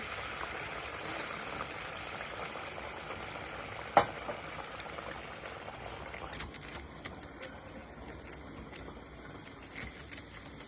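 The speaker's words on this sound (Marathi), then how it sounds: "तर तेल आपलं तापलंय. तर तेलामध्ये सोडायचं असं." Bharda vada batter frying in hot oil in a small kadhai, a steady close bubbling sizzle throughout with a single sharp knock near the middle and light crackles later.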